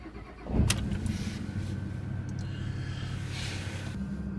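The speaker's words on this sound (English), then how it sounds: "First thing we want to do is start up the vehicle." A 4x4 vehicle stuck in four-wheel-drive low cranks and catches with a sudden burst, then settles into a steady idle rumble nearby, with a few light clicks and rattles.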